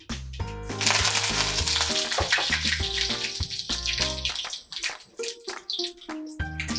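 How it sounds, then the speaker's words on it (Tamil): Mustard seeds and curry leaves fry in hot oil with a bright, continuous sizzle and crackle under a prominent melodic tune, with no talking. "எண்ணெய் சூடானதும் கடுகு போட்டுக்கலாம். இப்போ கருவேப்பிலை ஆட் பண்ணிக்கலாம்."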